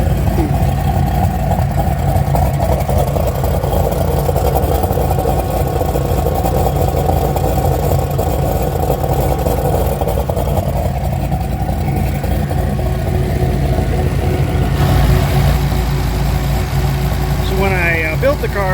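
Turbocharged LS V8 car idling steadily with a CO2-powered exhaust cutout, a loud continuous low rumble throughout, with a brief change in tone near the end.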